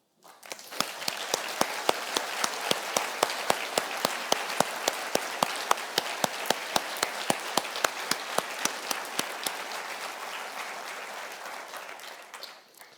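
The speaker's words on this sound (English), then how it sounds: "they never got the round of applause and the ovation that they deserve" Audience applause and ovation at a conference opening ceremony, a steady roomful of clapping that swells in, holds for several seconds with sharp individual claps, then fades away.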